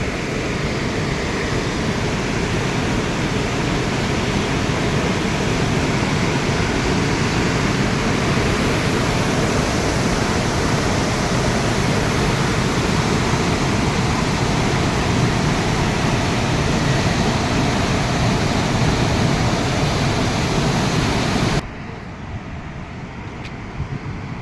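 Water rushes through the open gates of the Masanjor dam in a loud, constant broadband roar that runs unbroken, then drops to a quieter rush at the very end.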